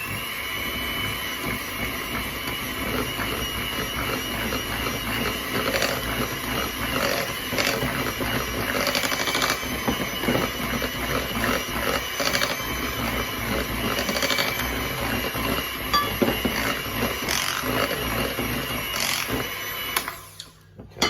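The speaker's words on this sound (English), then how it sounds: "Put the mixer in." An electric hand mixer whirs continuously through cake batter as flour is worked in for an orange rind cake, a close, steady buzzing motor with faint rattling against the bowl, running alone for about twenty seconds before cutting off.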